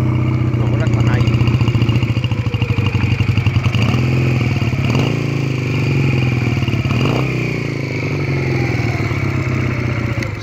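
A small Rebel 125cc motorcycle idles close by with a rapid, steady, slightly rough engine putter that swells and dips a little, while someone talks over it.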